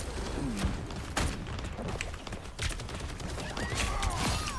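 Punisher's automatic missiles and gunfire in a Marvel Rivals-style hero shooter match, a dense clatter of rapid shots and launches with whooshing effects, steady and busy throughout amid game sounds.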